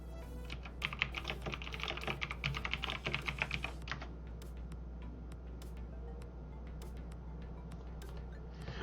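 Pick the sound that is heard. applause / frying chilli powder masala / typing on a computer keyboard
typing on a computer keyboard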